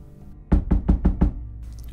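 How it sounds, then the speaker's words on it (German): Five firm knocks on a wooden door in a German fan-made fantasy audio drama, struck close and loud in an even, rapid rhythm, with nothing else heard around them. "Dort klopfte er energisch an die Tür."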